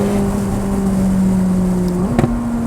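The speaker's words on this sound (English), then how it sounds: "being the Spider, with the exhaust right behind me, the noise is even more." McLaren 675LT Spider exhaust with the roof off, a steady loud engine drone holding one pitch, then a sudden rise in tone as the revs step up, with a brief crackle near the end.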